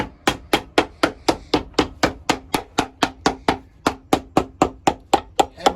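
Steady, evenly spaced hammer blows ring out close and loud, around twenty sharp strikes, on a Crockett & Jones leather boot in a cobbler's shop being resized.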